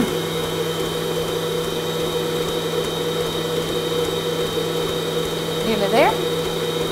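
Electric mixer whirring steadily as it beats egg into toffee cake batter, a constant motor drone with a brief voice over it near the end.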